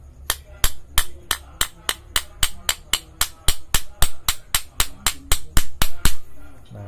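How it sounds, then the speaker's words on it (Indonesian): A hammer tapping a power steering rack seal into place on a Kijang Kapsul diesel, with about twenty sharp, evenly spaced metallic taps at a steady rhythm, close and loud. "Bantu sedikit dengan palu, pelan-pelan aja."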